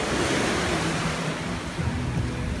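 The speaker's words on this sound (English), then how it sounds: "I don't know about these waves. These waves are playing too much." Steady rushing surf fills the whole recording, a broad wash of breaking water close by with some low wind rumble, and no voices.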